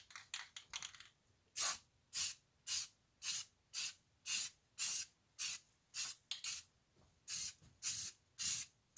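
Aerosol spray can of Krylon Satin Italian Olive paint being sprayed onto a gun, heard as a run of short hissing bursts in a steady rhythm, close and fairly loud, with no talking.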